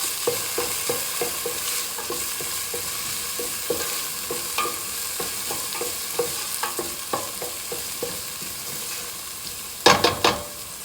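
Meatball sauce with crushed red pepper simmering and sizzling in a pan while a spoon stirs it with repeated soft scrapes and knocks, ending in a short burst of louder clatter.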